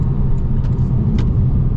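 Porsche Boxster GTS 4.0 flat-six engine pulling in first gear, a steady, deep, loud rumble from inside the car that holds even throughout, with no voices over it.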